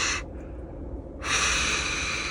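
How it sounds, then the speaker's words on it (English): Hot air balloon burners fire at a balloon festival in Albuquerque, a broad roaring whoosh that cuts off briefly, leaving a low rumble, then bursts back on strongly and holds, heard from a moderate distance. "that is the sound of the flames shooting up into the hot air balloons"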